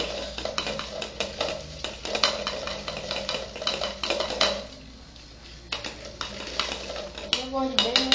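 A spoon stirs homemade food colouring in water, giving a steady run of close clinks and scrapes against the container, fading briefly before resuming.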